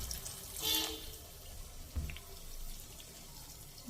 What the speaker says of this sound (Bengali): একটুখানি কষিয়ে তারপর সামান্য পরিমাণ জল দিয়ে দিলাম।